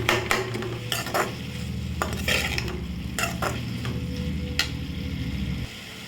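Onion and tomato sautéing in a pan for egg thokku, a constant frying hiss under repeated scraping strokes of a spoon against the pan, close and steady, no voices.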